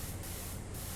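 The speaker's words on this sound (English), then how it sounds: "want to spray up here" Steady pressure washer spray from PowerWash Simulator, a continuous broadband hiss held close and loud for the full second with no pauses.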